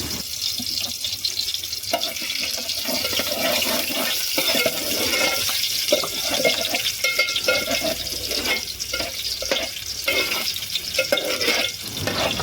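Onion, garlic and kokum sizzle and crackle loudly in hot oil as a tempering over a village wood-fired stove, a dense steady hiss with sharp pops, no talk.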